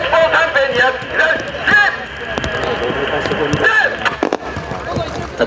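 A Type 06 anti-tank rifle grenade fired from a Howa Type 89 rifle at a Japanese army live-fire demonstration gives sharp, crackling reports amid a busy outdoor field, while an announcer speaks over the loudspeaker.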